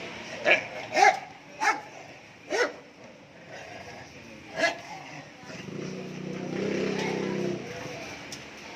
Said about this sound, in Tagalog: May aso dito na babae.